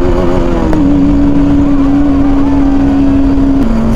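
A TVS Apache RTR 310 motorcycle accelerating through the gears, heard as a loud, close, steady engine drone with one brief pitch shift, as from a gear change, and no speech.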